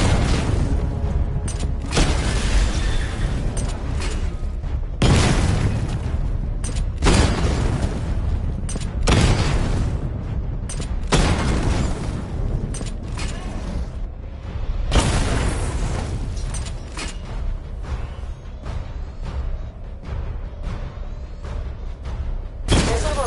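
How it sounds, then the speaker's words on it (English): Missile barrage explosions in a Batman video game, a long run of heavy booming blasts one after another, loud, dense and close, with brief gaps between volleys. "Destroy targets to charge up weapon energy and activate missile barrage."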